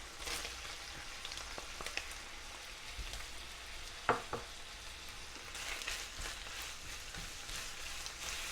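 Onion and turkey bacon fry in a pan with a soft, steady crackling sizzle, broken by occasional utensil taps and one sharp clack midway, with no talk.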